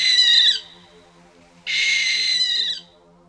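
A barn owl gives two long, harsh, hissing screeches separated by a short silence, the second slightly longer, loud and close, with no voices.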